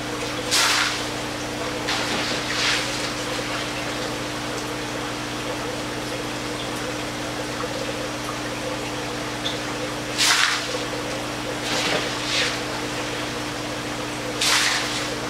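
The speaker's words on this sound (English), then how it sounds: "And after you do your first rinse, you go to a second rinse." Water rinses expanded clay pebbles and perlite grow media, a continuous pump-like hum and flow with several short bursty splashes and pours at intervals.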